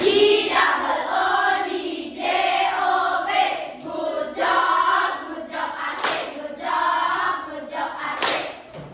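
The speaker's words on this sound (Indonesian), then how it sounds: "Kita berikan tepuk good job ya." A classroom of students claps a rhythmic 'tepuk good job' pattern together, loud bursts of clapping and group shouting in repeated phrases with brief pauses between.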